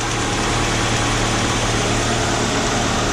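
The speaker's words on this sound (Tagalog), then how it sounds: "Bale tinry ko paanda rin. Yan, umaanda na." A car engine idles steadily just after a cold start, a loud, constant mechanical hum and rumble with no talking.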